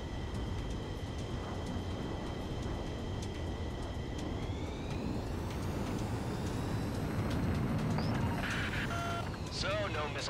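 Fighter jet taking off in Ace Combat 7, a steady roaring engine rumble that rises in pitch and intensity partway through, heard under speaking voices with radio chatter.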